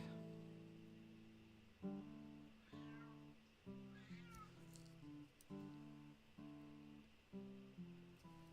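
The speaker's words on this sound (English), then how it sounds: "A starving cat saying, "Hey, human, it's time for the feeding."" A hungry cat meows for food over and over, a string of about eight drawn-out, wailing meows in a steady rhythm, close and clear, with a brief scuffling in between and no voices.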